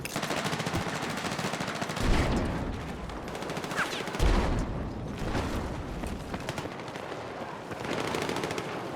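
Battlefield 6 combat: sustained rapid gunfire rattles throughout, with two heavier booming blasts from a grenade rising out of the barrage, loud and dense with no pause.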